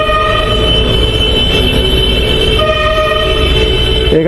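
Loud, continuous horn blaring from buses jostling for passengers in heavy traffic below a dark metro station approach near Newtown, with steady sustained tones over a dense roar of engines, heard close.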